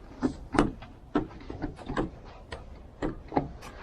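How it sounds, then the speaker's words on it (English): Someone tugs at a car door frozen shut in 23-degree cold, producing a series of irregular thumps, clunks and rattles of the handle and door, close and uneven, with no one speaking. "Is the door frozen shut or is it locked?"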